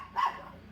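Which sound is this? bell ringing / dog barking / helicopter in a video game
dog barking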